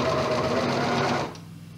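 Sewing machine stitching elastic onto swimsuit fabric, a steady close mechanical hum with rapid needle chatter that stops abruptly after about a second, leaving quiet room tone.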